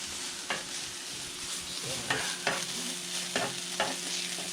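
Meat frying in a pan during home cooking of traditional local food in Japan, a steady soft sizzle broken by a few scraping stirs of the pan, close and moderately loud, with no talking.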